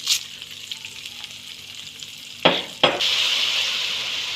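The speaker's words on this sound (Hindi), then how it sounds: "अभी हमने एक बड़े साइज़ का प्याज इसमें ऐड किया है। इसे हम लाइट ब्राउन करेंगे।" Onion frying in oil for chicken biryani, a steady close sizzle that swells after two stirring clatters and continues bright and even to the end.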